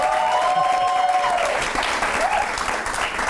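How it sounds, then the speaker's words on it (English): An audience at a heated public debate applauding, dense sustained clapping from a crowd heard from within the hall, with a brief tonal whine over it and faint voices underneath. "Please put your hands together for Nelson once again."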